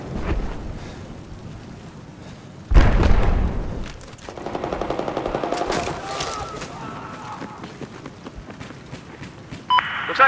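Machine gun fire in Battlefield 4 on Shanghai, a loud burst opening then a rapid, rhythmic stream of shots in the middle, mixed with game beeps and other effects around it.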